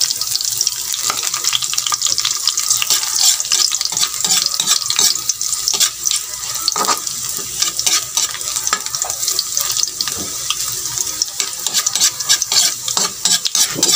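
Garlic and onion sauté in a pan in a home kitchen, giving a loud, continuous sizzle and crackle with frequent scraping stirs close by. No one speaks.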